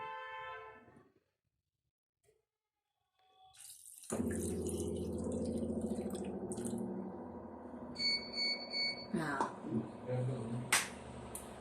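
Water runs steadily from a glass onto soaked chana dal in a cooking pot, a continuous pouring splash lasting several seconds after a quiet pause, with some clinking near the end.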